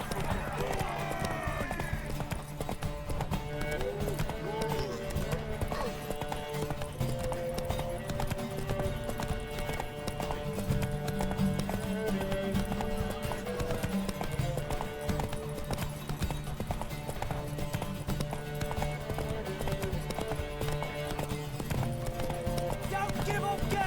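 Hooves clip-clop in a fast, steady galloping rhythm as a horse races toward a tower in The Witcher 3: Wild Hunt, running continuously beneath game music, with a brief whinny-like tone near the start.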